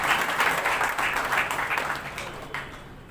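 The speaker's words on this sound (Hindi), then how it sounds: "तो उनके लिए भी एक बार जोरदार ताली बजाएं" Crowd applause at a political campaign event in Kurukshetra, a dense burst of many people clapping that starts strong and tapers off toward the end.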